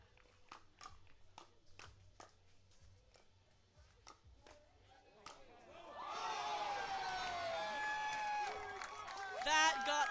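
A pickleball crowd at MLP San Clemente 2023, Orlando Squeeze versus D.C., erupts into loud, sustained cheering and whistling after a rally ends out of bounds, following a series of sharp, spaced paddle pops.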